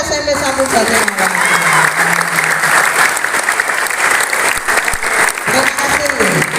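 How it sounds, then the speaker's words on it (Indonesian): Students at a school orientation assembly for SMP Negeri 1 Jatilawang break into loud, sustained applause and cheering, with voices and a microphone speaker audible through the clapping. "Tepuk tangan untuk SMP 1 Jatilawang."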